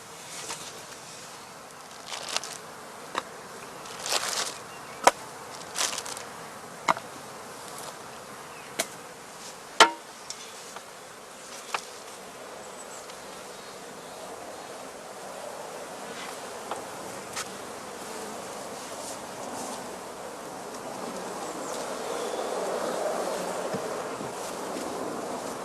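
Honey bees hum steadily around a traditional basket hive in early spring, with sharp buzzes of individual bees flying close past at irregular intervals and a soft breezy wash growing toward the end.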